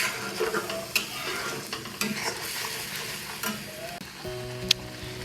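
A spoon stirs a salted, spiced dish frying in a pan, scraping and clinking in steady strokes over a continuous close sizzle, with a few sharper knocks against the metal.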